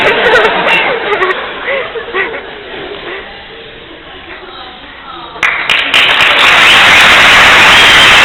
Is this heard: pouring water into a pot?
no